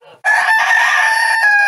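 A rooster crows loudly and close by, one long, strained call held for well over a second after a brief soft cluck.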